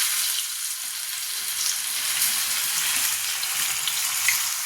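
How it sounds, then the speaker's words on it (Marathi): Potato vadi frying in hot oil, a continuous bright crackling sizzle with scattered pops, steady and close, with no talking. "तर आता ही वडी तळून घेऊ आपण एक एक टाकून."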